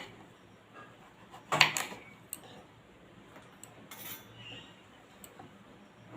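A kitchen knife clicks sharply against a board while trimming the ends off pointed gourds (potol), a couple of distinct cuts amid faint handling sounds.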